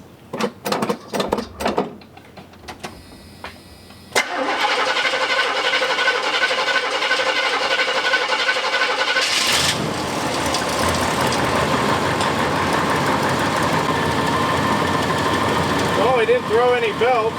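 The engine of a 1986 Chevy C30 pickup cranks and catches after some clicks and handling noise, then settles into a loud, steady idle close by that rises in intensity partway through.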